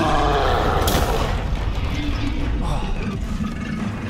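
A spell cast in the video game Hogwarts Legacy: a sharp crack near the start, then a dense stretch of mechanical clattering and booming combat noise that continues steadily to the end.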